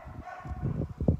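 Dogs barking and yipping in play a short way off, several brief bursts with a louder pair of barks near the end, set against a quiet outdoor background near broiler chickens.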